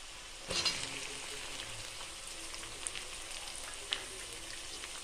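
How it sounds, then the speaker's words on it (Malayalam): Onion and curry leaves sauté in a pan with a soft, continuous sizzle after an initial burst as they hit the oil, with occasional faint clicks of stirring. "ഉള്ളി, കറിവേപ്പിൻ്റെ ഇല ഇട്ടെടുത്ത് നന്നായി വഴറ്റിയെടുക്കാം കേട്ടോ"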